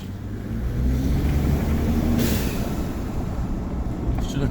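A steady, loud engine rumble of a Ford F-150 EcoBoost truck in a video game drones continuously, a low heavy hum with a brief hiss partway through.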